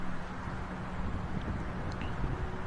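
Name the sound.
wind blowing in open area between two buildings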